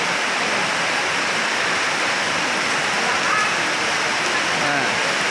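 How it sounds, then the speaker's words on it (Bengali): Heavy rain pours at a railway station in a dense, loud, continuous hiss that stays even throughout, with faint voices partly buried underneath. "আজকে যে অবস্থা আমাদের এখানে ঝুম বৃষ্টি করছে, ঝুম বৃষ্টি"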